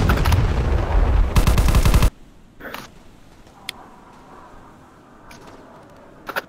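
Gunfire in the War Dust VR video game, a loud rapid burst of automatic fire for about two seconds, followed by a few scattered distant shots against quiet background.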